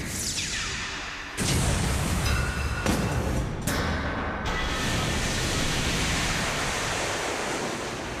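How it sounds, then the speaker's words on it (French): A supersonic explosion effect from a Beyblade anime battle roars as a dense, continuous blast of rushing noise, loud and sustained, with sharp surges and cutoffs near the start and a steady rumbling wash afterward. "L'explosion supersonique de Libra a fini par atteindre sa cible."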